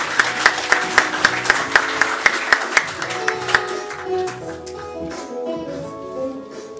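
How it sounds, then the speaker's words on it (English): Rhythmic clapping from an audience at a journalism awards ceremony in Namibia starts crisp and steady, then blends into a looser, sustained round of applause that gradually fades. "Let's give those nominees a round of applause"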